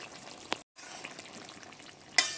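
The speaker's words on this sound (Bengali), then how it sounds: "জিরে বাটাটা দিয়ে একটু নেড়ে চেড়ে নিয়েছি, এবার লাগিয়ে নিচ্ছি।" Cumin paste being stirred into a fish and cauliflower curry in a pan, a soft steady sizzle with a few scraping stirs and a brief sharp clink near the end, no talking.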